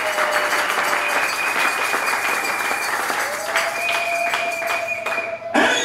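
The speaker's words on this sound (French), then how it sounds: "Applaudissez le Seigneur." A church congregation at a Sunday service applauds steadily and fairly loudly, with tonal sustained notes, likely from a keyboard, holding underneath the clapping before it cuts off at the end.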